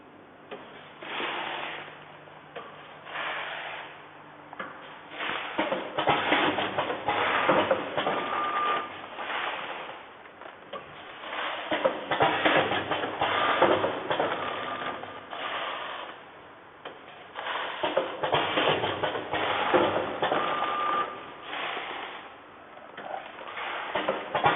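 AUTOMPACK ATM-320C grain and bean packing machine running, a busy mechanical clatter of gears and ratcheting parts with rhythmic surges and occasional short beeps, continuous and moderately close.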